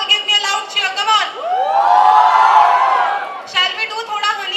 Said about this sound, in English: Honey Singh fans in the hall, give me a loud cheer.